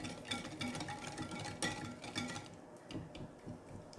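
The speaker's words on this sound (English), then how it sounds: "Let's whisk this together." A whisk scrapes and clinks steadily against a bowl, stirring a pumpkin pie fat bomb mixture with pumpkin butter and pie spice, a continuous close metallic churning with brief louder strokes.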